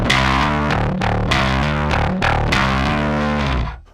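Loud, heavily distorted bass guitar through a Scrambler Bass Overdrive with the treble turned fully up, sustained raspy notes changing in a short riff before cutting off at the end.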